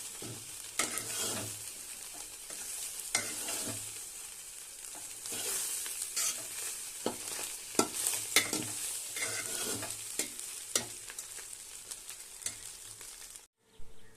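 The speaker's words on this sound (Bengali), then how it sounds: "দিয়ে দেবো জিরের গুঁড়ো, গরম মশলার গুঁড়ো, দিয়ে একটু নেড়ে চেড়ে নেবো।" Cumin and garam masala powder are stirred in a hot pan for a vegetable pulao, with close, repeated scraping strokes over a soft, steady sizzle and no talking.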